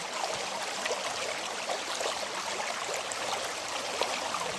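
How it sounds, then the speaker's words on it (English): Rushing river water beside a footpath along a riverbank in Angola, a steady broadband wash of flowing current heard close and continuous throughout, with no voices. "The sound of rushing water replaces the drone of the highway."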